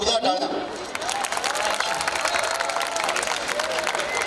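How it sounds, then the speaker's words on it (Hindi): Audience applause at a Hindi film trailer launch for Operation Romeo, dense, steady clapping and some cheering from a large crowd, loud and sustained throughout with faint voices mixed in. "जोरदार तालियां"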